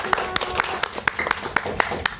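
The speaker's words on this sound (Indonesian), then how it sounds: "Tepuk tangan untuk kelompok 1" Students in a classroom clap for a group, a fairly quick and even patter of hands over a couple of seconds with light talk underneath.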